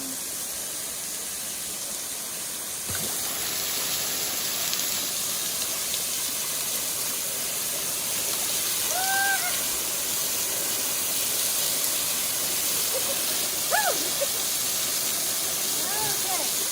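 Steady broadband rush of a waterfall at a fishing spot in Arkansas, continuous and fairly loud throughout, with brief whistle-like chirps and faint voices over the constant water noise.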